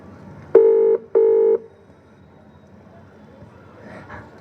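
Two steady telephone keypad tones sound close and clear, each lasting about half a second with a short gap between, during a school drama play in Madurai, followed by quiet background and faint murmuring.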